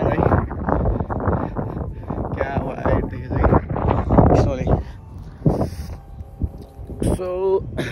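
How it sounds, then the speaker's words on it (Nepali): Wind gusting outdoors beside a small lake in Canada as winter cold sets in, rumbling against the microphone beneath continuous close talking. "अनि हावा चलिरहेको छ"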